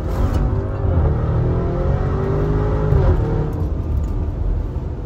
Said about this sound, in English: Tires were skipping on that. Oh, here we go. There they go, traction control.